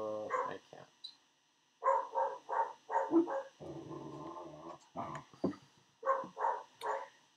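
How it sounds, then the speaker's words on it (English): Two dogs bark and growl in repeated short, close bursts with brief pauses, one low rumbling growl in the middle, and a word spoken faintly. "Both dogs are just so upset."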